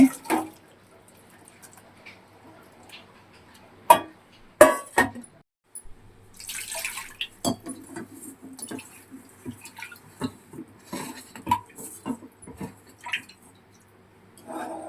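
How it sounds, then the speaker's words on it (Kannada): Water splashes and trickles into a pot in short bursts for moong dal tovve, with drips, clinks and wet squishing sounds close by. "ಅದಕ್ಕೆ ನೀರು ಆ್ಯಡ್ ಮಾಡ್ತೀನಿ ಅದರಲ್ಲಿ"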